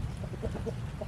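A big black rooster, a survivor of a fox attack, clucks softly in a short run of low, close calls over a steady background rumble.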